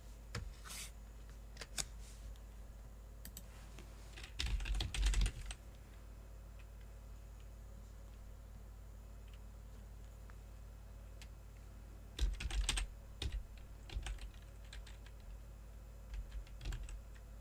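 Fingers type on a computer keyboard, quiet and close, in short bursts of rapid clicking separated by long near-silent pauses, with scattered single keystrokes.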